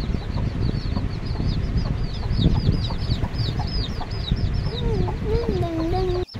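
Several chickens cluck and chatter close by, with short repeated calls over a busy farmyard background and a longer bird call near the end.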